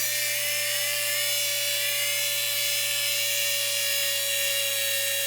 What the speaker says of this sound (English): We're gonna do a little bit of wet sanding.